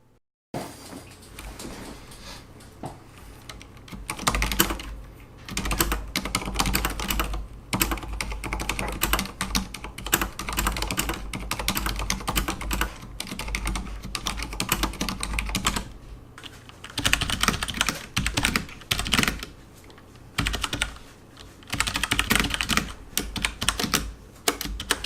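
Someone types steadily on a Corsair STRAFE RGB keyboard with Cherry MX Silent switches, producing a close, continuous clatter of muted keystrokes in busy runs, broken by a few short pauses.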